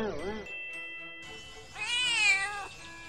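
A cartoon cat meows twice in an animated Thai comedy set in Sakura School Simulator, a short mew at the start and a longer, rising-falling meow after a pause, close and clear over faint background music.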